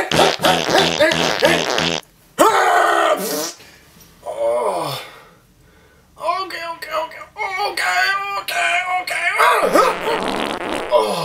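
Repeated loud fart noises from a cartoonish baby ogre in a puppet comedy fight, several bursts with breaks and moaning vocal sounds between them, no clear speech.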